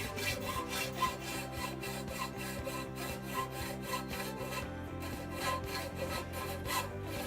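A saw cuts a piece at a 45-degree angle for a cutlery rack in steady back-and-forth strokes, about two to three per second, rasping continuously and close by.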